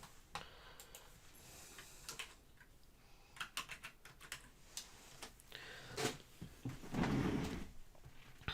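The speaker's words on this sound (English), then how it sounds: "and I will type that in." Irregular clicks of typing on a computer keyboard at a home desk, close and moderately quiet, in short bursts with pauses and a slight thump or two between keystroke runs.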